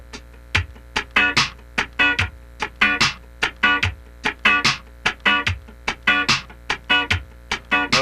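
Funk rhythm guitar with a steady chain of short, muted strums that put an upstroke accent on the fourth sixteenth of each beat. It plays alone and fairly close, with crisp evenly spaced hits and no talking.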